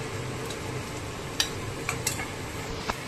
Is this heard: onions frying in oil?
yes